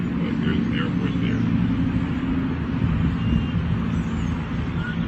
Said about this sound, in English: Airplane's making the noise, this one.